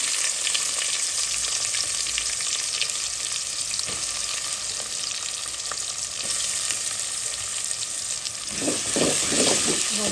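Onion sizzles in hot oil left from frying chicken for a morog polao, a loud continuous crackle with scattered scraping of a spoon and a burst of stirring near the end.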